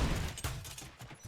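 Gunfire from RoboCop: Rogue City: a dense, loud fusillade of overlapping shots with sharp bursts at the start and again near the end.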